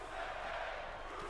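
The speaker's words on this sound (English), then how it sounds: "Rusev Day chants from the crowd already" A WWE video game crowd in a wrestling arena keeps up a steady, distant wash of cheering and chanting with no distinct words or break for just over a second.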